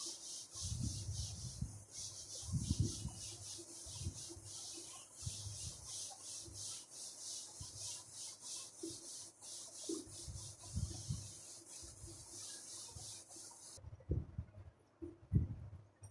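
Rhythmic rubbing strokes wipe writing off a classroom board, a repeated soft scrubbing close by, with a steady high hiss in the background.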